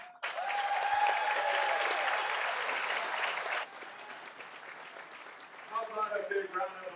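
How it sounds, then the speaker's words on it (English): A crowd at a baseball game applauds the 2001 Kuemper Knights team: a dense, steady wash of clapping for about three and a half seconds that cuts off abruptly, followed by quieter ambience and a voice on a public address. "How about a big round of applause one more time for our 25-year and 50-year anniversary of state tournament baseball."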